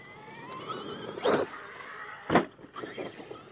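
A brushless RC monster truck slams down hard twice, each impact a loud, sharp broadband crack over a steady whine of the motor and drivetrain, with smaller clatters and bumps trailing after the second hit.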